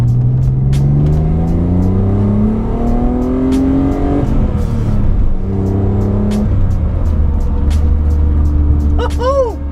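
A 1988 BMW M3 with an E36 M3 S50 engine revs hard as the car accelerates, its pitch rising, dipping sharply at a gear change, then climbing again, loud and heard close from inside.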